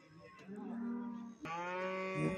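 A young male buffalo lows loudly and nearby, two long drawn-out calls in a row, with faint background noise from a busy outdoor cattle market.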